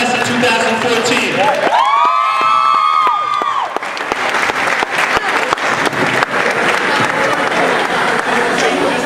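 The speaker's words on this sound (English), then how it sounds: "a round of applause for the class of 2014" Crowd applause and cheering for the graduating class of 2014 at a high school senior night ceremony, a loud sustained wash of clapping with a whistle or whoop near the start, and voices talking over it.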